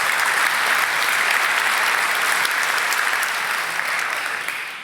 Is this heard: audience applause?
yes